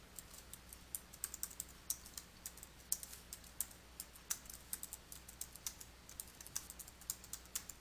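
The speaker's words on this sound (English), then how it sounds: "Use the Tab key on your keyboard to move between cells within a row." Typing on a computer keyboard while entering spreadsheet records, with quick, irregular, close key clicks tapping along steadily in a quiet room, no voices.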